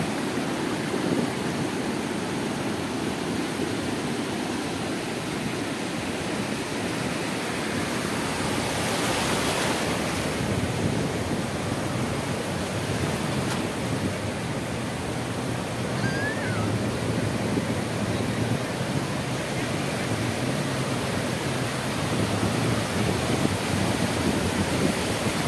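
Sea waves break and wash continuously onto Puri beach on the Odisha coast, a steady broad roar of surf with no pause, close and fairly loud throughout.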